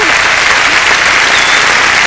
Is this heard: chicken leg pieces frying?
no